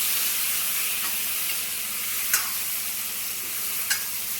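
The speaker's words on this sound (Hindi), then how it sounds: "मैं इसमें डाल दूँगी अब ये टमाटर। तो अब इन्हें भी थोड़ी देर पका लूँ प्याज के साथ।" Tomatoes sizzle with onions in a hot pan, a steady broad frying hiss with a couple of brief crackles and stirring scrapes, close and without talk.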